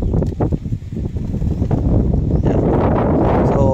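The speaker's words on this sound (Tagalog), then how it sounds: "Yan, malakas yung hangin." Strong wind buffets the microphone in a loud, continuous low roar, gusting a little harder toward the end, with no speech.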